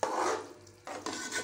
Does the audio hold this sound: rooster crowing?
no